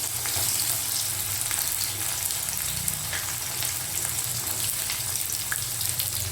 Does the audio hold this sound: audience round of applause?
no